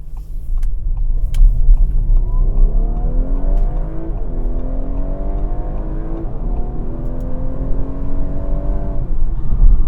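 2018 Audi A5 Sportback accelerating onto a freeway in dynamic mode, engine note climbing steadily through rising gear sweeps with a brief shift dip, loud and continuous from inside the cabin with road rumble beneath.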